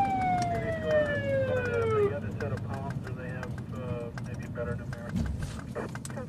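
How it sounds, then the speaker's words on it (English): A police car siren wails, sweeps downward and cuts off, followed by road noise with bursts of voices and radio chatter. "Kill the siren for a sec."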